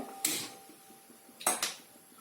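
A gas stove burner is lit under a kadhai (wok), giving two quick, sharp igniter clicks with brief bursts of hiss, separated by about a second of quiet.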